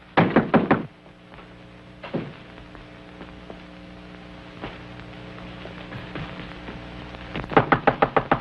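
Knocking on a locked door in a 1936 radio drama: a quick run of sharp raps, then single scattered knocks over a steady hum, and a final rapid burst of knocks.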